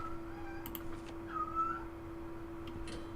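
A cat meows in the background, a short faint drawn-out call over a constant low indoor hum.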